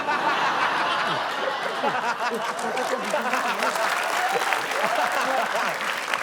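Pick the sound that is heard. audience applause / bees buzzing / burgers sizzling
audience applause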